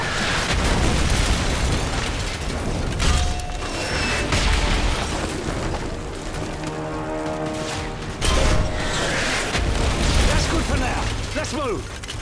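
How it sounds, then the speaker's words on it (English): Mortar shells explode in Call of Duty Modern Warfare 3 during an assault on a village: repeated heavy booms and bursts over a dense bed of gunfire and battle noise, with a voice speaking over the action. "If it moves, put a mortar shell on it."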